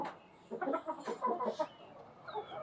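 Black Australorp hens with desi chickens cluck in a clear burst of several calls nearby, fading to quieter murmurs and one thin high call at the end.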